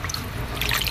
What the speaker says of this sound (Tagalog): Alagyan natin ng konting tubig.